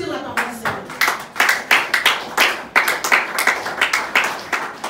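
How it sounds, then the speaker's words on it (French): A congregation at a French-speaking Sunday worship service claps in a steady unison rhythm, sharp regular hand claps about three per second, loud and close, with faint voices underneath. "Est-ce que quelqu'un peut applaudir la parole du Seigneur?"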